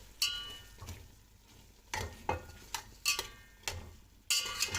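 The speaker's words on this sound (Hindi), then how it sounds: "आलूओं को 3 से 4 मिनट तक फ्राई करने के बाद" About half a kilo of potatoes fry with chicken and spices for degi biryani; a quiet sizzle sits under repeated sharp stirring scrapes and clinks of a spoon against the pot.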